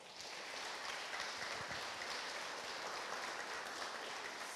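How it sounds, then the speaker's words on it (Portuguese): Audience applause in honor of Saint Thomas More at a talk, an even, moderately quiet wash of many hands clapping without voices. "Uma salva de palmas, São Thomas More."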